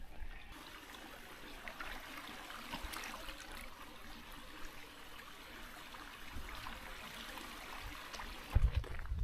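Gentle, steady trickle of a Lake District stream close by, a soft continuous wash with a brief louder splash near the end.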